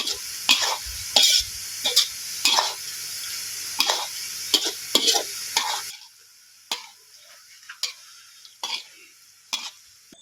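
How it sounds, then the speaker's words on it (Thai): Pork stir-fried with red curry paste in a pan, with repeated scraping stir strokes over a steady sizzle that drops away midway, leaving sharp spatula strikes alone. "ผัดพริกแกงหมูครับ"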